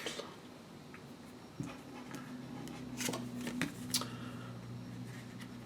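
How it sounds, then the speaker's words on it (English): Tarot cards being shuffled by hand, with soft riffling and a few sharper card snaps and taps over a low steady room hum, close and fairly quiet. "This fell out when I was shuffling."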